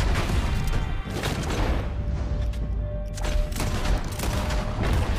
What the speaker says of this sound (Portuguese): Eu dei dois tiros, mas nem precisava.